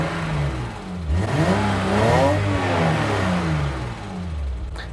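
A BMW E30 325iX with a stock muffler revs up and down close by, its engine note rising to a peak and falling back over several seconds.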